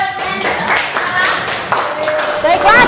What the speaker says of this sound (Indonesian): tepuk tangan buat Sela.